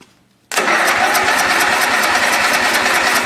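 Small engine with the choke on starting abruptly after a brief quiet moment, then running loud and rough at a fast, steady, slightly uneven idle, close by.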